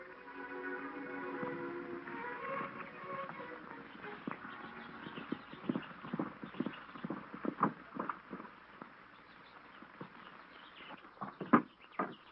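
Horses are ridden in on a western ranch, hooves clip-clopping in an irregular run of knocks that grows louder and closer toward the end, over a faint background.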